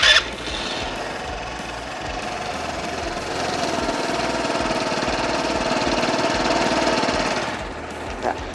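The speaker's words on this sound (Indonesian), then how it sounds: "Itu suara engine-nya guys." A Keeway Shin retro scooter engine is kickstarted, sputters to life and settles into a rapid, rattly idle that holds steady for several seconds before dropping off.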